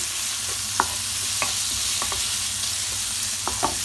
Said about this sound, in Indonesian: masukin si daging sapi yang tadi udah kita iris-iris ya teman-teman. Tumis sampai matang.